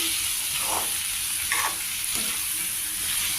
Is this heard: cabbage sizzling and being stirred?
yes